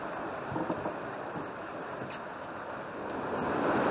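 Ocean waves and strong wind batter a sailboat at sea in the Roaring Forties with its engine off: a continuous, close roar of gusting wind and surf that builds slightly toward the end, with no talking.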